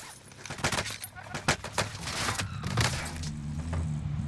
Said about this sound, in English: That one sounds like a properly suppressed weapon. Grauer and M13 maybe.